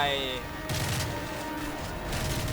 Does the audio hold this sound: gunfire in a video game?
yes